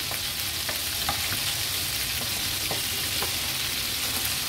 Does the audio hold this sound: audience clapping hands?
no